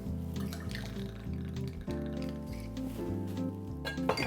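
Black Tears Cuban rum trickles and splashes from a bottle into a cocktail glass, a soft continuous pour with small drips heard up close and alone.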